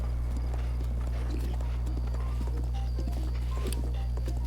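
Slow, steady clip-clop of a horse's hooves walking at an even pace in the video game Breath of the Wild, close by, over a constant low hum with no voices.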